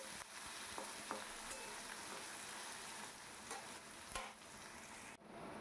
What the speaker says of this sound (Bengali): এবার এটাকে সুন্দর করে নাড়াচাড়া করে নিতে হবে ওপর নিচ।